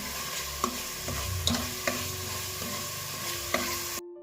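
Masala frying in oil for a mutton head curry, with steady sizzling under repeated scraping stirs and a few sharp clinks of the spoon against the pan, close and alone.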